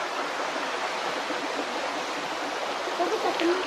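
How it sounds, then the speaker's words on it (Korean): Water from a stream cascades down like a small waterfall at a backcountry campsite, making a continuous close rushing wash. A faint voice surfaces briefly near the end. "아빠 폭포같이 내려와, 물이."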